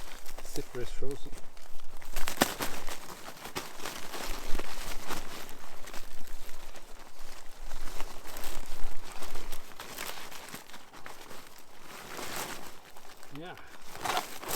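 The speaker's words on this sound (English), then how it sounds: "Zipper is frozen." A frozen tent zipper is worked open in -10°C cold, giving stiff, repeated crinkling and scraping pulls up close, with faint rustling between them.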